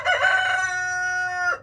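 A rooster crows once in a barnyard, loud and close, a full cock-a-doodle-doo that rises and then holds a long, steady note before cutting off, with faint farmyard noise underneath.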